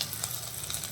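Garlic and chopped ginger hitting hot oil in a wok, a brief, close, steady sizzling hiss with faint crackle and no voices.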